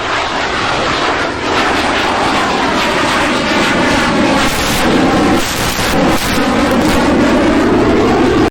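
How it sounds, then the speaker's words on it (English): Military jets fly low overhead near Fentress Airfield in Chesapeake, Virginia, as a loud, continuous roar with a swirling, phasing rumble that fills the whole stretch without a break. "I absolutely love the jet noise"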